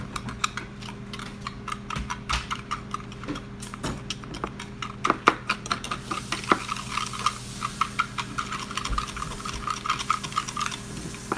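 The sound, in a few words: mixing chili taco salad ingredients in a pan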